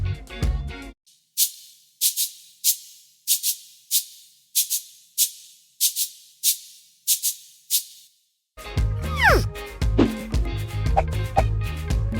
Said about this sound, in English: Cabasa.